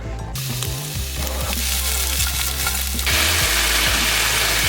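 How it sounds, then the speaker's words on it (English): Food sautés in a hot pan with a loud, continuous close sizzle, broken by scraping and stirring knocks, and a sharp rise in hiss and spatter toward the end. "I'm gonna saute these right now"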